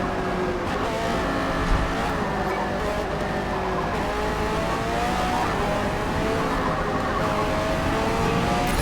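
Race car engine in the Forza Motorsport video game, a loud continuous revving drone whose pitch rises and falls with gear changes and acceleration, close up, with faint tire noise and no talking.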